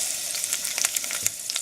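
Mushrooms sizzle and crackle in leftover meatball grease in a pan, with a steady close frying hiss broken by small pops.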